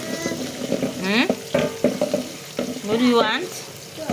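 Onions added to very hot oil in a pan at a village cooking fire fry with a hissing sizzle, heard under a woman and a small child chatting close by.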